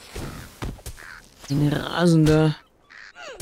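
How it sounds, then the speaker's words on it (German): A raven caws in the Lord of the Rings Online video game, a few harsh calls in the middle of the clip, with someone talking before and after. "Da ist ein Rabe."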